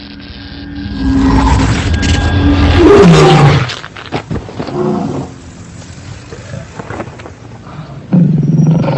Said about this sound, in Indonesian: ada singa yang sedang mengaum